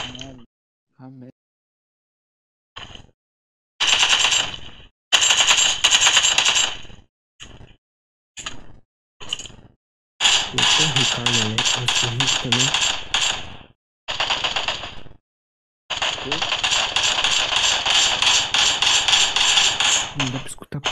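Gunfire in the mobile game PUBG Mobile comes in sharp bursts and short rapid volleys separated by silent gaps, loud and close, with a voice talking over some stretches.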